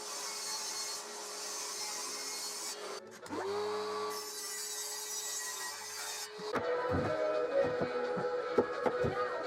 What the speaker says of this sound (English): So I first cut the pieces to size on the table saw and trimmed to length on the miter saw